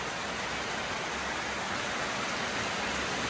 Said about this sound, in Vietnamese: mưa quá mưa